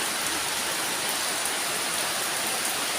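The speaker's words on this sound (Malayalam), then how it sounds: "കണ്ടോ, നല്ല മഴ പെയ്യുന്നുണ്ട്." Dense, steady downpour of heavy rain, a loud continuous hiss of drops hitting surfaces nearby with no other sounds.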